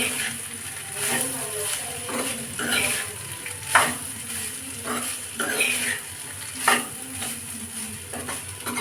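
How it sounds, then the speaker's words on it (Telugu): Onion fried rice with thin rice grains being stirred in a pan, a soft ongoing fry sizzle punctuated by repeated scrapes and clinks of a spatula against metal, with a few louder knocks. "ఇలా ఈ పీసెస్ అన్నీ రైస్ పట్టేలా బాగా కలుపుకోవాలండి"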